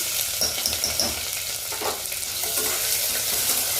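Chana dal fries with green chillies and onion in a pan for a thotakura dish, a close steady sizzle broken by occasional stirring scrapes.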